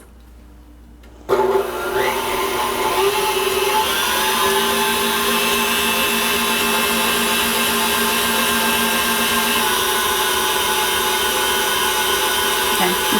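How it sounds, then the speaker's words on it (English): A stand mixer whips Swiss meringue on high speed and starts with an abrupt switch-on after a quiet moment. A steady, loud motor whine with a constant whirring drone follows and holds unchanged to the end. "So we're going to continue to mix on high speed for about 5 to 8 minutes"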